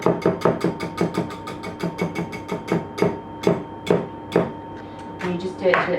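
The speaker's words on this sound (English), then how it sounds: "you just whisk them together" Eggs being whisked together by hand with a balloon whisk for a pineapple upside-down cake, a quick run of sharp, rhythmic clinks against the bowl that keep a steady beat and grow a little irregular toward the end.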